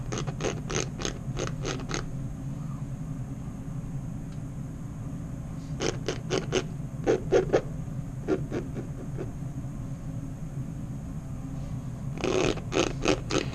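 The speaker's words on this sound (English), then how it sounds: "So I'm going in and I'm scraping this stuff off." Paint being scraped off an underpainting in short bursts of quick, rhythmic scratching strokes, with pauses between them, close and moderately loud over a steady low background hum.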